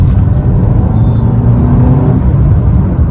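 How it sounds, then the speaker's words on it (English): A 2017 Maruti Suzuki Baleno Delta hatchback accelerates, its engine giving a steady close whir and hum that swells slightly and then eases off near the end, with no talking. "That's your typical Suzuki engine, gives you good power."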